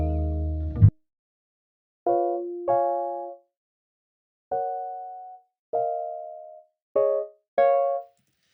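Synth chords played one at a time on a keyboard, six or seven separate sustained chords with gaps of silence between them, clean and close. A brief low thump comes first.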